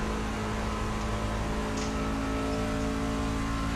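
Race truck engine at Charlotte Motor Speedway in the Fast N Fun Truck Series, a loud continuous droning roar held at steady pitch as the truck rolls slightly off the throttle into turn one, heard without talk.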